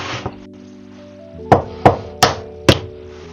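Three eggs cracked against a hard edge for lemon pancake batter in a home kitchen, several sharp close taps in an even rhythm after a quiet stretch, each a crisp knock.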